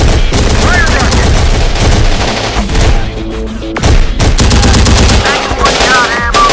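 Rapid, dense machine-gun bursts and heavy gunfire fill a combat scene in the video game Terminator Dark Fate Defiance, loud and nearly continuous with brief gaps and a few booms, under a music-like tonal bed.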